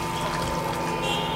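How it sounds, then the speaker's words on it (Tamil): Hot water poured into a pot of traditional village-style mutton curry, a steady close splashing pour running throughout with no pauses. "வெந்நீர் தான் சேர்க்குறேன்"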